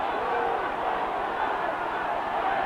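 Rugby crowd at a Llanelli versus New Zealand match in 1989 reacting unhappily to a high tackle, a steady broad roar of many voices filling the stadium throughout.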